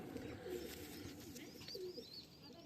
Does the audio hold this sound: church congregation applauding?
no